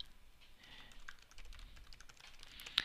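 Fingers type code on a computer keyboard during a Unity C# tutorial, quick irregular key clicks, fairly soft and close, ending with one sharper louder tap.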